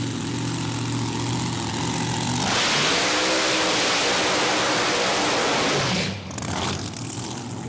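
Supercharged big block Chevrolet Altered drag car engine at a drag strip, a loud broadband roar that builds sharply into a sustained full-throttle blast lasting several seconds, then cuts off abruptly, with no talk.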